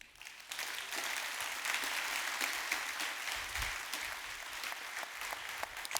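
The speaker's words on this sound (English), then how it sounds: "another round of applause for Brian Westbrook" An audience applauds at a conference talk after Brian Westbrook speaks, with sustained steady clapping of many hands, fairly distant and even, and no voices over it.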